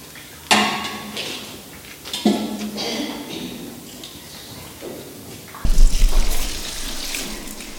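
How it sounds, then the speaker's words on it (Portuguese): Warm water trickles and splashes into a bowl of sweet dough for Bolinhos de S. Sebastião, with sugar, lemon, cinnamon and anise already added; a few close pours stand out over light kitchen noise. "A água estava morna, escorri para dentro, juntamente já com a água do sal."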